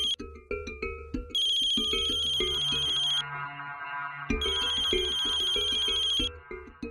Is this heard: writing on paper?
no